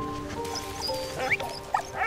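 Dog in the WWI video game Valiant Hearts gives a few short yips and barks, two sharper ones near the end, over a steady game music bed with tonal hum.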